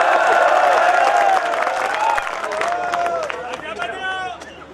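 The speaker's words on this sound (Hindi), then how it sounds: "एक बार जोरदार तालियां बजा के" Audience at a Hindi comedy poetry recital claps loudly, a dense burst of applause with scattered cheers that slowly thins toward the end.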